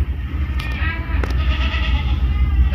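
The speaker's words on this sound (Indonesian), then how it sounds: "Nah, ini coba kita berikan ke kambing-kambingnya." Goats in a herd of about twenty bleating at feeding time during the rainy season, a few short cries standing out over a steady low rumble of background noise.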